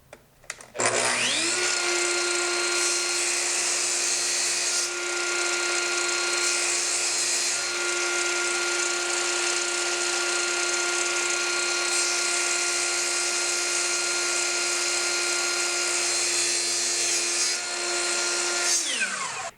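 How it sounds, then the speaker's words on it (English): A miter saw spins up and cuts through wood trim, a loud close motor whine holding steady for roughly eighteen seconds, then winding down. "I get the saw cutting into the, hopefully the exact middle of that pencil mark."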